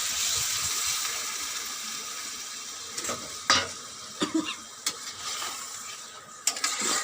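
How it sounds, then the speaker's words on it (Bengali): Pointed gourd pieces with mustard and poppy seed paste fry in a pan as a little water is added, giving a steady close sizzle broken by a few stirring scrapes and clinks. "একটু জল দিয়ে দেবো,"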